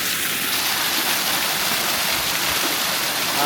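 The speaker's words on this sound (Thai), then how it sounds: "น้ำตกกลางทางน้ำตกข้างทาง" Roadside waterfall in Laos, heard as a loud, steady broadband rush of falling water that stays constant throughout, with no voices.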